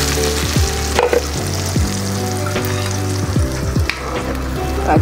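Blended ingredients sizzle and fry steadily in a pan while being stirred, with scraping strokes recurring every second or so; loud and close with no talk.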